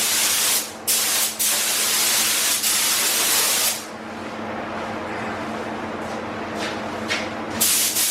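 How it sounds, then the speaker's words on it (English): A spray gun lays down epoxy primer on a sign in a continuous close hiss, broken by short pauses between passes before the spraying resumes. "So we've got the paint in the gun, let's go and primer this project."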